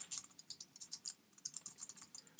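Quick, soft keystrokes on a computer keyboard, a steady uneven run of light clicks taps while entering work in project-planning software, close up and quiet with no voices.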